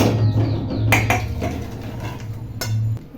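A kadai (wok) being set down on a kitchen stove, with a few sharp metallic clanks and scrapes over a steady low hum, close and fairly loud, no speech.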